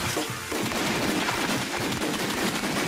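Gunshots in the Wii game The House of the Dead Overkill fire in dense, rapid succession, loud and continuous with barely a break over about three seconds.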